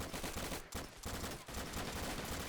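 Heavy video-game battle gunfire, dense and continuous, with rapid overlapping shots from many soldiers pouring out in a loud barrage broken only by a few split-second gaps.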